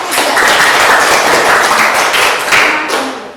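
Classroom students clapping for a presenting group, a dense, loud burst of many hands that swells and fades over a few seconds.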